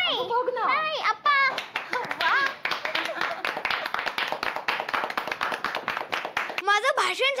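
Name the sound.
clapping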